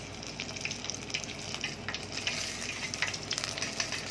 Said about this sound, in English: this is our batter fried fish